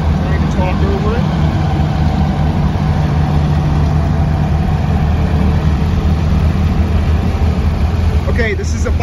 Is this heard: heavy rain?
no